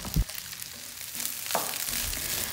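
Cooked rice for nasi goreng sizzles and fries in a hot pan, a steady hissing crackle with a sharp clank of a utensil near the start and a louder burst of sizzle later.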